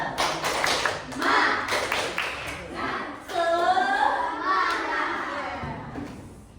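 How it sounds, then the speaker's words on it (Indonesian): A class of primary school children performing the rhythmic 'tepuk semangat' clapping chant, sharp claps mixed with loud shouted chanting voices in a classroom. "Tepuk semangat."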